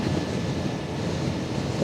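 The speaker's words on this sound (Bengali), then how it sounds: "পদ্মা ব্রিজের উপরে কিন্তু সবসময় প্রচুর বাতাস থাকে" Strong wind buffets the microphone during a motorbike ride across the Padma bridge, a steady broadband roar with a brief louder gust at the end and no talk.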